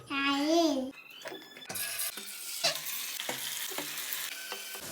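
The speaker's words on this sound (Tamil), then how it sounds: "சிக்கன் நல்லா உரிச்சு பொரிச்சு எடுத்துடலாம்." Chicken for Jappan chicken sizzles in hot oil. A voice is heard first, then steady frying noise under repeated scraping and stirring taps.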